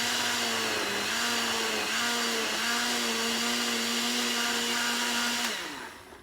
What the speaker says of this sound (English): I'm going to start blending it